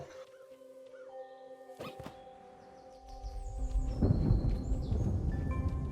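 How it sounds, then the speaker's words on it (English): Distant storm thunder rumbles in the survival game Away: The Survival Series, a thudding hit followed by a swelling low roar that builds and lingers beneath sustained in-game music tones. "A storm rumbles in the distance."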